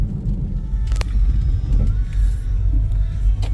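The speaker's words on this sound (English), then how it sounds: "A lot of traffic this morning." Cars pass on a winding mountain valley road near Clinch Mountain in Virginia, with a loud, close engine rumble and tyre roar that rises and holds steady as the vehicles go by.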